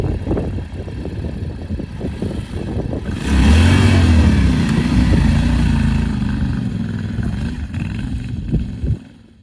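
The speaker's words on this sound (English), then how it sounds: "I dump the clutch, the rear tire breaks loose. Then I find some traction, I get really easy on the throttle, build some momentum" An adventure motorcycle stuck off road roars loudly as the rider dumps the clutch and the rear tire spins, the engine revving up and holding a strained, rising-and-falling note before easing off, close to the listener.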